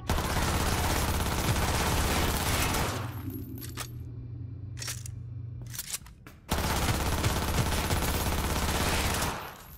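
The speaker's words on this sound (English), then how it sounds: "I'm just gonna shoot him." Rapid automatic gunfire in Cyberpunk 2077 rattles loud and close for several seconds, pauses through a quieter stretch with a few isolated shots, then bursts back into sustained dense firing.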